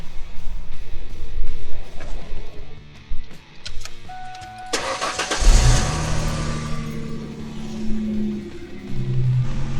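A car with a dead battery, jump-started from another vehicle, cranks briefly and catches with a sudden loud roar, then settles into a steady, close idle rumble.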